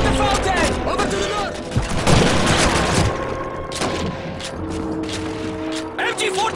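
Call of Duty 2 wartime battle with dense bursts of MG-42 machine gun fire and booming shots, loud and continuous. Soldiers shout over the gunfire.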